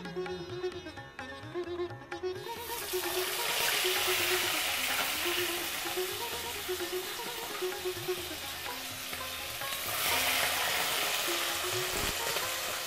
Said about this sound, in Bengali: বেশ ভালো গরম হয়ে গেলে একটা একটা করে টুকরো মুরগি আমরা লাল করে ভেজে নেব, এপিট ওপিট করে।